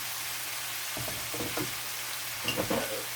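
Ackee frying in a pan while being stirred, a low steady sizzle broken by a few soft scraping and clinking bursts close by.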